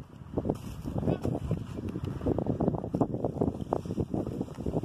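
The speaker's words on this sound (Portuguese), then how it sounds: "Tá ventando muito." Strong wind buffets the microphone at an open landfill, making continuous low rumbling gusts and thumps that rise and fall throughout.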